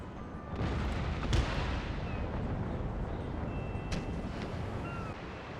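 Naval cannon fire from the Spanish second-rate battleship America in Empire: Total War, heard as a steady roar of guns and sea ambience with a sharp boom near the start and another crack later, no talking.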